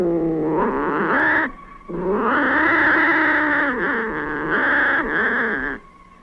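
A cat's drawn-out, wavering caterwaul and growl from a radio drama, loud and close, in two long yowling stretches with a brief pause between.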